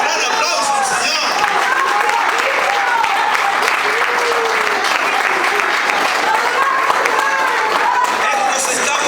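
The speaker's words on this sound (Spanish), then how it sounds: "Denle un gran aplauso al Señor." Loud, sustained congregational applause in a church service, thick and continuous, with voices calling out and chatter mixed through the clapping.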